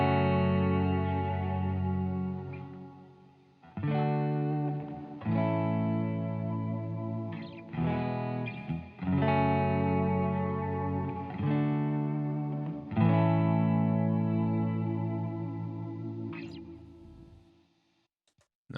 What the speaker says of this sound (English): This is where I'll play cleanly, and then the reverb will swell in after my playing.